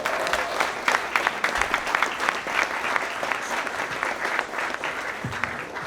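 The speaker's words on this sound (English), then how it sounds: "So can I get a round of applause for Emma, y'all?" Audience applause at a brand-launch talk, a dense, steady wash of clapping hands that fills the room from start to finish without letting up.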